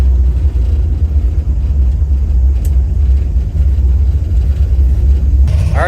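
A 1970 Chevrolet Nova with a 383 stroker V8 rumbles steadily from inside the car on its first drive in over twenty years, a deep low drone holding throughout with no talk.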